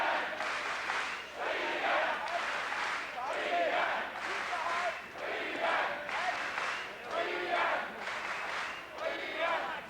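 Distant crowd at a heavyweight boxing match, Dickie Ryan against Vitali Klitschko, swelling in repeated waves of cheering and chanting, with a commentator's voice underneath.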